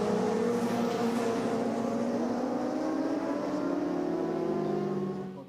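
Sidecar racing outfits at the Imatra road races wind down their warm-up session, engines droning steadily with shifting pitch, a loud continuous blend of several machines passing without speech.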